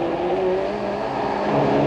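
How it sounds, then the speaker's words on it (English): A touring car at a 1980s BTCC race spins coming out of a chicane. Its engine gives a loud, steady, close racing drone for a couple of seconds, with no talk. "Coming out of the chicane as Cleland clears it, Tony Crudgerton spins"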